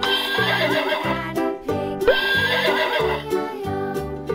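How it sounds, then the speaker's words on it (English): A horse whinnies repeatedly over a bouncy music track, the neighs high and close, with clip-clop beats underneath. "Horse."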